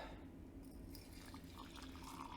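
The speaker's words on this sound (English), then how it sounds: "pour the tea into here" Tea being poured from a pot into a cup, a soft, faint trickle of liquid that runs steadily for a couple of seconds.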